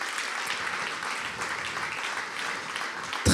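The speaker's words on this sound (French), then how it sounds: "Donc on les applaudit très fort pour commencer." A crowd applauds at an event, a steady, even wash of clapping that holds for a few seconds before a sudden louder thump right at the end.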